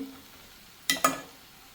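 Whole spices hit hot oil for a chana dal curry, giving two quick sharp sizzling bursts close up over a quiet kitchen background, with no talk during the clip.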